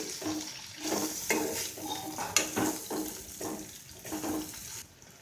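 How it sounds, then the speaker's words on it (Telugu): Carrot fry being stirred in a pan, a soft run of scraping, clinking strokes against the metal with faint sizzling beneath, heard up close and alone. "ఇప్పుడు ఒకసారి కలుపుకోవాలి."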